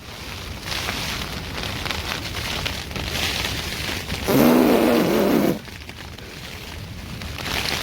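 Hail pelts a tent in a sudden loud, dense burst lasting about a second, standing out over steady background rain and wind drumming on the fabric.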